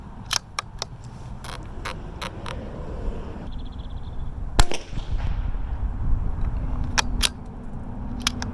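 Rifle shots fired at a paper target on an outdoor range while testing a DIY bipod extender, several sharp cracks in irregular succession with one louder, closer blast near the middle, over a steady background rumble.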